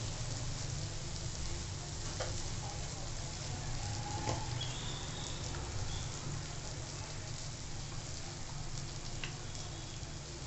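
Pumpkin sautéing in a pan with turmeric and asafoetida for a village-style bhaji produces a soft, steady sizzle with a few faint stirring taps, heard close but low throughout.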